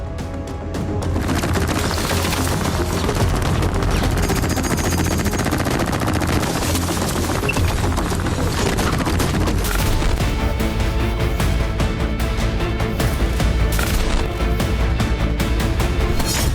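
Sustained, rapid gunfire rattles on without pause, loud and dense, with overlapping bursts and no talking.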